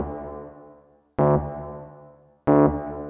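Two sustained electric piano chords, each struck and left to ring, with a bright, lingering plate reverb tail fed from an effects send bus fading behind them. No voices.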